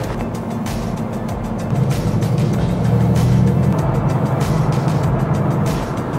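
A route 41 bus heading toward Hofors drives along with a steady, loud low engine drone and road rumble that swells slightly midway, continuous throughout with no talking.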